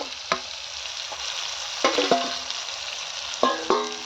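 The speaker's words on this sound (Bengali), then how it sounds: "টমেটোটা দিয়ে আমি নাড়তে থাকবো" Tomato and spices fry in a pan for green banana kofta while a utensil stirs them, producing a soft continuous sizzle broken by several sharp scraping clacks against the pan, close and with no talking.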